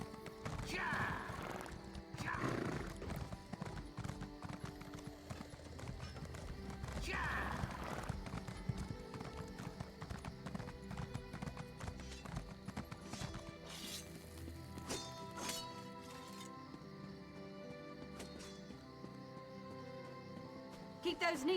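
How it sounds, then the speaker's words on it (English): Horses clip-clop along at a slow pace in the video game Elder Scrolls Online, the hoofbeats repeating steadily at moderate volume with an occasional whinny, while a person talks over them. "These horses are really slow."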